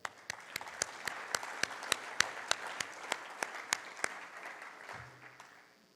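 Conference audience clapping, with a few distinct, sharp claps standing out at an even rhythm over a soft wash of scattered applause that fades out near the end.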